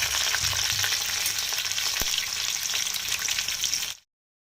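Black cumin and green chilies sizzling in hot oil with leftover cooked meat, a loud, close, continuous frying crackle with light stirring that stops abruptly near the end.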